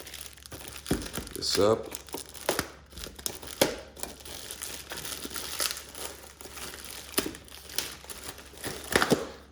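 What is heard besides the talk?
opening Iwatani grill attachment packaging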